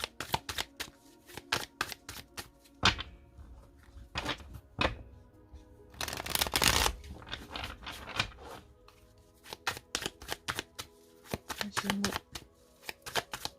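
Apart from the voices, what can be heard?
oracle cards being shuffled and cut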